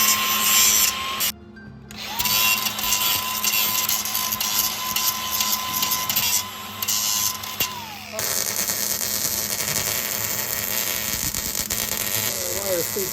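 A MIG welder runs close to a vehicle's brake lines with the wire speed set a little fast, crackling and buzzing in bursts. A steady tone and shop noise run underneath, and a person talks during the clip.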